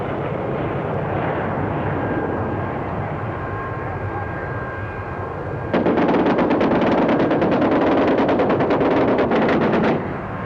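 Twin 30 mm Hispano-Suiza autocannons on an AMX-13 anti-aircraft turret firing a loud, rapid, sustained burst of about four seconds over a constant background roar.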